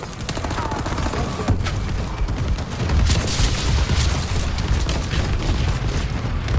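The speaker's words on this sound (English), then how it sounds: "Friendly bombing run incoming." A bombing run in the Call of Duty Advanced Warfare video game unleashes a dense, continuous barrage of loud explosions and crackling gunfire, rumbling heavily throughout.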